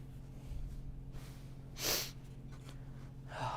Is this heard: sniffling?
yes